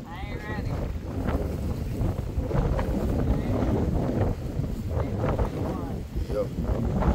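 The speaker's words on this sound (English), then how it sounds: "It done got super windy out here, y'all. I'm talking 20, 25 mile an hour winds. The water is choppy as hell." Strong 20 to 25 mph wind buffets a small fishing boat on choppy water, a constant roar of wind noise on the microphone with the splash and slap of waves beneath.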